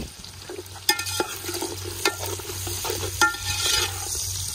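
Onions fry in a pan for a desi-style chicken curry cooked outdoors by a river, crackling and sizzling up close with sharp clattering stirring knocks and a low steady hum underneath.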